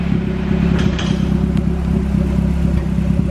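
A turbocharged Honda Civic with a B18C engine swap idles steadily up close, running slightly lean, with a low, uneven rumble and faint irregular pops in the exhaust, continuous throughout.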